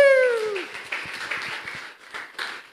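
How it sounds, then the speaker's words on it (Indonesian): Applause from a church congregation, scattered claps and cheers following a loud tonal sound at the start, fairly near and lively, with some voices mixed in. "Berikan tepuk tangan."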